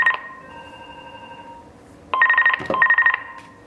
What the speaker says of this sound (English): Phone off hook.